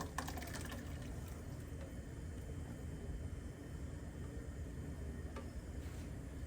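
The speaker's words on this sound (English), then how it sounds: "Add some of this broth into here to rinse this out before it mixes in good." Birria broth pours into a pot in a faint, steady, continuous liquid stream, quiet and without speech throughout.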